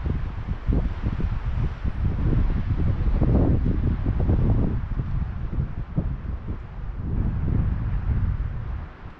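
Strong gusts of wind blow across a mostly frozen Emerald Lake in Rocky Mountain National Park, buffeting the microphone with low rumbling roars that swell and ease over several seconds.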